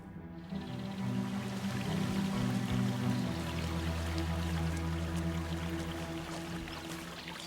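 Steady broadband rush of a waterfall in Alaska, continuous and fairly close, with a low rumbling undertone and no voices.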